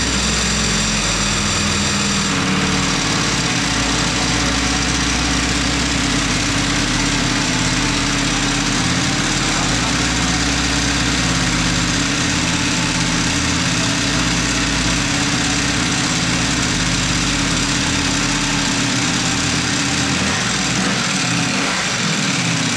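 A motorcycle engine idles steadily after starting, a loud, continuous near rumble with slight shifts in its low throb and no talk over it.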